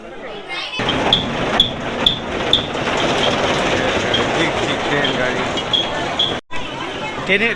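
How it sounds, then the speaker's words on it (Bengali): A toy train runs on Elephanta Island near Mumbai, with a steady rumbling clatter and periodic wheel clicks. A crowd babbles and voices talk throughout, and the noise stops abruptly near the end. "টয় ট্রেনে উঠে গেছি, টয় ট্রেনে যাচ্ছি"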